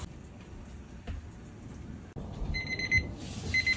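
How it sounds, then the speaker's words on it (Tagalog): A kitchen timer set while cooking homemade okonomiyaki rings out in bright electronic beeps that start midway through, after a few soft kitchen thumps, and continue in short bursts to the end. "tumunog na ang ating timer"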